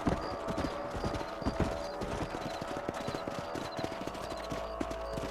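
Horse hooves clip-clopping in the Western video game Red Dead Redemption, a busy, irregular run of close hoof strikes with faint creaking of tack, steady and alone without talk.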